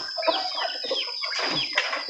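Chickens clucking on a rural farm, several close birds giving busy overlapping clucks and squawks over a steady high insect-like whine, loud and continuous with no talk.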